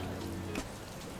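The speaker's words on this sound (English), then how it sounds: "It suddenly rained really heavily when I come here" Heavy rain pours steadily outdoors at a ceramics and light art site in Vietnam, a dense close hiss of water on surfaces with a few louder drop splashes, and no talking.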